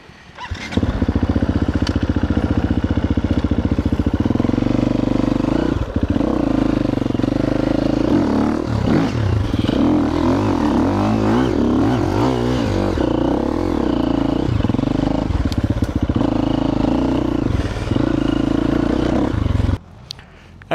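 A dirt bike engine labors and revs loud and close while climbing a hill, a steady droning roar with rising and falling throttle surges and some clatter, cutting off near the end.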